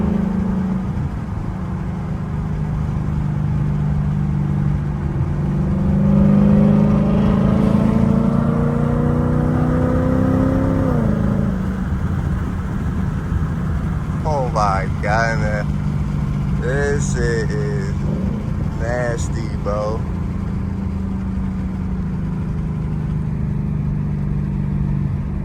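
A Ford Mustang GT S550 with a newly installed engine revs hard while driving, a loud steady engine drone rising and falling in pitch, with someone talking over it in the second half.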